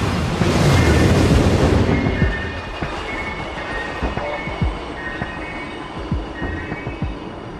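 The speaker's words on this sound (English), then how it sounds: "We have developed the maglev with a top speed of 500 kilometers an hour for commercial use." A high-speed maglev train built for a top speed of 500 km/h sweeps past in a loud rushing roar that fades after a couple of seconds into a lower rumble with faint rhythmic knocks.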